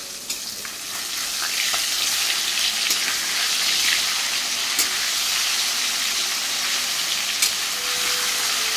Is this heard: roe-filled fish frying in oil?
yes